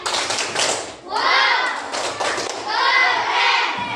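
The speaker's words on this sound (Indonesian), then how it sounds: "kasih tepuk semangat dulu untuk Yasmin" A classroom of schoolchildren claps a rhythmic encouragement cheer in a patterned beat, with bursts of claps and children's voices mixed together, close and fairly loud.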